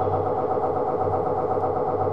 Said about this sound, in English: Generator!